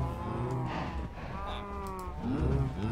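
Cows in a field in the video game Minecraft give repeated low, drawn-out moos, one after another, fairly close and loud.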